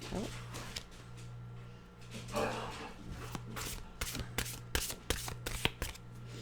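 A deck of mystical wisdom oracle cards is shuffled close up, a soft rubbing sweep followed by a string of crisp, rapid riffling flicks and taps.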